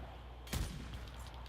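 A single sharp gunshot burst in the video game Warframe fires from a weapon that strips enemy armor, a brief loud crack with a short decaying tail over low steady game ambience.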